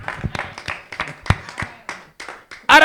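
A church congregation claps in a quick, fairly regular rhythm, the sharp hand strikes close and distinct, ending with a sudden louder burst.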